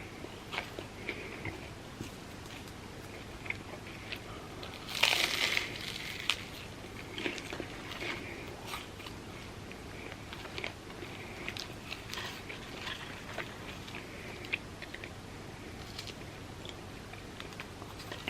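Someone bites into and chews a flaky, crispy vegan cinnamon roll, with one loud crunchy bite up close, then soft chewing and faint crackles and no talking.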